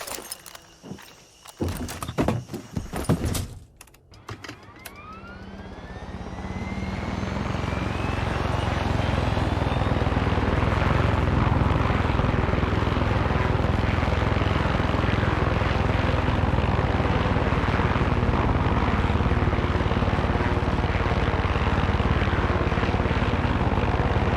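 A Far Cry 6 aircraft flying through restricted airspace: after a few seconds of sharp clatter and transients, a steady, loud engine drone builds and holds, with a rising whine early on, continuing alone without talk.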